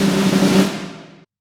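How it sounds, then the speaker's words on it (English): A sampled snare drum roll from a sample library, a dense hissing rattle that holds steady and then fades out over about a second, close and alone. "So in this case, I have the snare roll."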